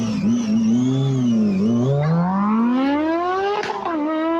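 Sports car engine revving near and moderately loud, its pitch swooping down and then climbing steadily in a long rising rev, with no talking over it.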